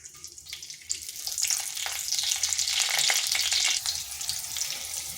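Panch phoron, a bay leaf and two green chillies hit hot oil. A quiet start bursts after a second into a loud, crackling sizzle that stays strong and close before easing slightly.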